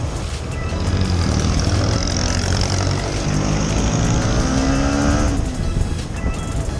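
A Yamaha TFX motorcycle with a modified front sprocket accelerates hard from a stop, its engine climbing loudly through the revs in a close, continuous rising whine with gear changes.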